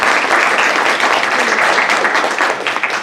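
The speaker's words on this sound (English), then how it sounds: "Let's give them a round of applause." A crowd at a student panel claps steadily for a few seconds, a dense, even patter of many hands with no voices.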